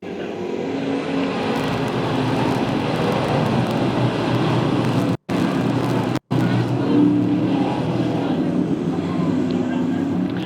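Sportsman race cars roar steadily down a speedway during a restart, a loud continuous engine drone from several cars. A commentator talks over the noise.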